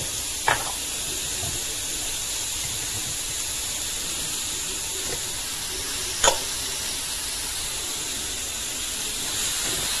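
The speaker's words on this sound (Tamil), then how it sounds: "ஸோ வெங்காயம் நல்லா வேகட்டும், வதங்கட்டும்." Onions sautéing in a pan with turmeric and salt give a steady, moderate sizzle and hiss, with two brief sharp clicks of a utensil against the pan.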